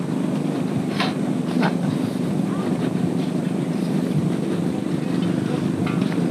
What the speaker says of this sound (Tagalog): Oh, lakas ng hangin na.